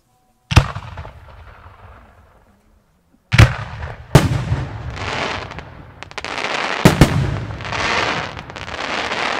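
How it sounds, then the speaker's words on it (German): A 5-inch Popping Kamuro firework shell bursting outdoors: a loud sharp launch thump, then heavy booming bursts followed by long, dense crackling and popping that fills the air and sustains to the end. "Position 72 nun die Popping Kamoro."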